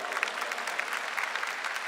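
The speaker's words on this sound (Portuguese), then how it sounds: "Quer aplaudir? Aplauda," A church congregation applauds during a Catholic sermon, a steady, dense wash of many hands clapping at a moderate distance, sustained without pause for about two seconds.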